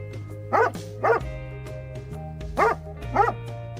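Four sharp dog barks in two pairs, close and fairly loud, over a low steady hum.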